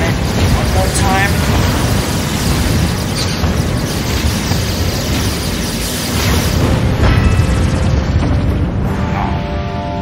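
Bomb blasts from a space battle in the video game Spore, a dense continuous roar of booms and bursts filling the scene while a player talks excitedly over the top.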